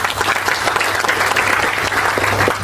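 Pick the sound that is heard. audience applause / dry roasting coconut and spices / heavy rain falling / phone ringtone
audience applause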